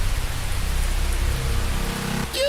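Anime rain shower, a steady hiss of falling rain and drops spattering on surfaces, close and even throughout with a brief tonal sound at the end.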